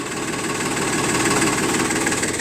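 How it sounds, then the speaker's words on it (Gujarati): Powertrac 439 tractor engine running after starting on the first crank, a steady low diesel chugging hum with even vibration, moderately loud and without voices. "જુઓ એકી સેલે ટ્રેક્ટર ચાલુ થઈ ગયું છે"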